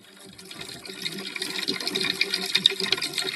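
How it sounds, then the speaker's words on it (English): Urine streams into a toilet bowl in an animated short film, a trickling splash of water that grows louder over a few seconds. "Now time to pee in toilet."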